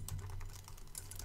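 Rapid, steady keystrokes on a computer keyboard while entering Swift code in Xcode for a SpriteKit space shooter game, close and fairly quiet against a low steady hum, with no talking.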